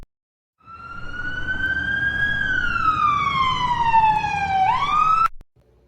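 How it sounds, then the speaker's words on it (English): An ambulance siren wails steadily as the vehicle approaches, then its pitch slides downward as it passes close by and cuts off abruptly. No voices are heard. "Was that an ambulance?"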